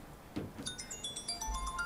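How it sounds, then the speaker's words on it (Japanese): A telephone ringtone goes off unexpectedly during a live stage event, playing a bright, tinkling electronic melody of short, rising tones that begins after a brief low thump and continues steadily, with no talking over it. "まさかの電話ですね"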